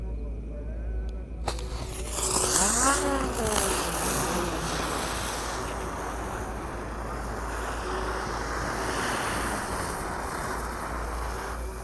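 Seven ground-spinner fireworks are lit together on a Ramadan night, giving a rising whistling whine with sweeping pitch, over outdoor wind noise and some voices.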